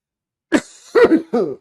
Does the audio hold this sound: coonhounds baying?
no